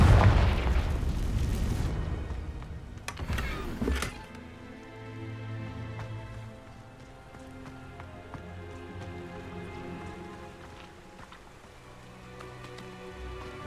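The Confringo fire spell in Hogwarts Legacy on PS5 erupts with a loud, crackling burst and boom. It fades into a rumbling, sizzling tail under a low, steady game ambience.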